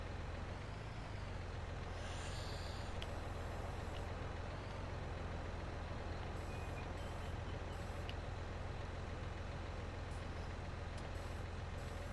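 A farm vehicle reverses to move a trailer, its backup alarm beeping in a steady rhythm over a loud, constant engine rumble and a wind-buffeted background.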